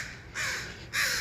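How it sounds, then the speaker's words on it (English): Crows cawing outdoors during a morning walk, two harsh drawn-out calls with a short pause between them, fairly clear at moderate distance. "Crows."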